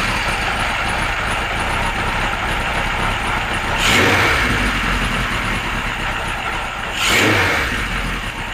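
A fifty-year-old Kawasaki Z1 motorcycle engine on old serviced carburettors runs close by at an uneven idle, with two short blips of throttle rising above the steady rumble.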